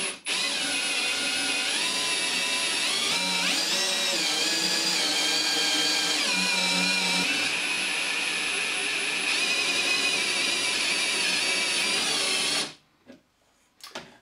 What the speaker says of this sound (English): We're now going to take the drill and the socket, ensuring it is in a forwards gear